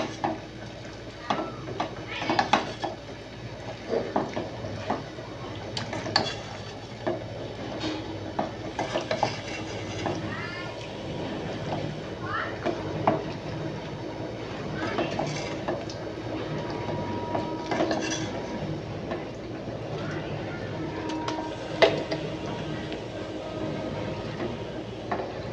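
Meat being stirred in a pan while cooked without oil: scraping and clattering stir strokes with a faint sizzle, fairly close and steady throughout, with some talking in the background.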